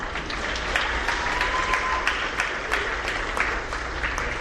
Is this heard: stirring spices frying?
no